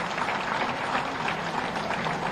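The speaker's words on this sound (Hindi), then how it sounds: "तालियां बजती रहें तो कितना अच्छा लगे।" Steady applause from a crowd at a ceremony honouring teachers, with dense continuous clapping filling the space without pause.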